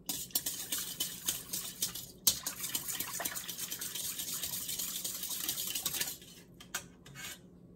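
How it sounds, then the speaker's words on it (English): Warm milk and melted butter poured into a large bowl in a kitchen, heard as a continuous close pouring and gushing with clinks of dishes and utensils, ending abruptly and followed by a few quiet knocks. "add your warm milk into a large bowl and your melted butter"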